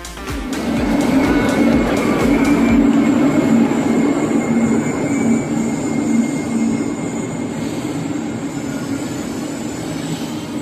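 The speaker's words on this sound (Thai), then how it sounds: "อันนี้รถกำลัง จะออกเดินทางไปวังเวียงนะคะ" A train pulls out of Luang Prabang station in Laos bound for Vang Vieng, a loud, close, continuous rumble of rolling wheels with a faint high whine.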